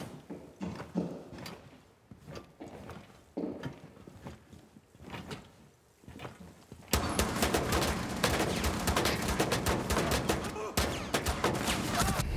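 Gunfire in the Rainbow Six: Siege video game: a few scattered shots and movement noises at first, then a dense, loud, continuous volley of rapid shots that fills the second half.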